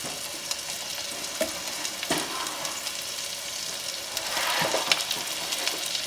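Steak and potatoes sizzle in butter in a hot pan over high gas heat, a steady close crackling fry with occasional sharper pops and stirring scrapes throughout, no voices.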